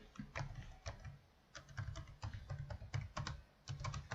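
Rapid keystrokes clatter on a computer keyboard while code is being entered, coming in quick uneven bursts with brief pauses, close up and fairly quiet, with no talking.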